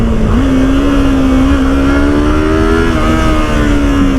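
A 2019 Yamaha YZF R3 BS4 motorcycle engine revs loud and close, a sustained buzzing drone that climbs steadily in pitch, dips briefly, then holds high.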